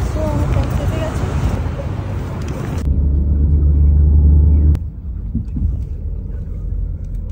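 Interior rumble of a taxi moving through Qatar traffic, steady low engine and road drone throughout, louder in the middle stretch, with a person talking over it.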